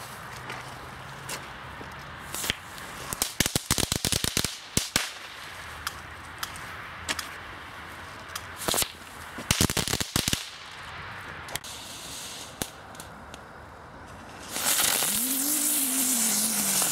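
Crackling ball fireworks (knetterballen) going off outdoors: dense clusters of sharp snapping crackles and pops in irregular bursts over many seconds, then a rising hiss and whistle near the end, with no talking.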